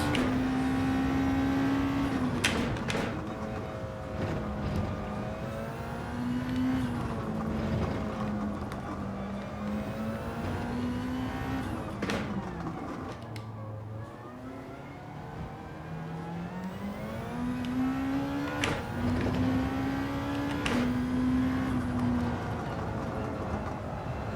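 A race car engine in Gran Turismo 7 revs up and down through repeated gear changes, a loud, continuous drone that climbs, drops at each shift and climbs again, with faint tyre and road noise beneath.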